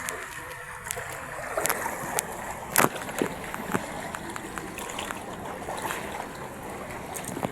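Oars dip and splash in water at an irregular pace, with soft sloshing against a small boat whose engine is broken, and open outdoor ambience.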